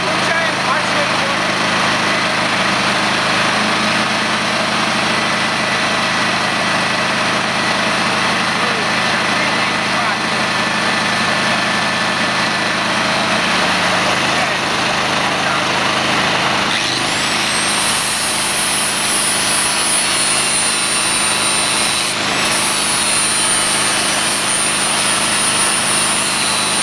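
A petrol generator runs in a garage with a steady, loud mechanical drone throughout, its tone shifting and brightening about two-thirds of the way through.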